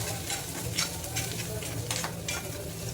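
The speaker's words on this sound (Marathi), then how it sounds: "कांदा आता चांगला भाजून घेणार आहे." Onion, garlic and curry leaves fry in a pan with a close, steady crackling sizzle, broken by the light scrape of stirring.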